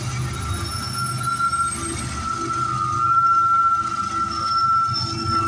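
CN M302 freight train in the rain at Tansley, Milepost 44, rolling past with a single locomotive and a possible DPU, giving a steady, loud rumble of wagons and a sustained wheel squeal throughout.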